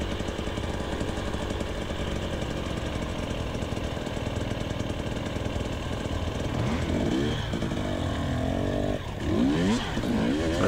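A dirt bike on a muddy cross-country trail with zero traction revs hard and continuously up close, the engine snarling and surging in pitch as it churns over obstacles.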